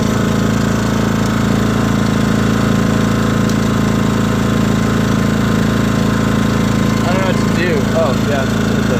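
A Predator 2000 generator runs with its eco throttle switched off, a loud, constant close engine drone with a steady rapid pulse, while a voice speaks briefly over it toward the end.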